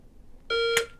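A pistol shot timer gives one loud, sharp electronic beep lasting about a quarter second, ending in a brief broadband burst, with quiet room tone before it.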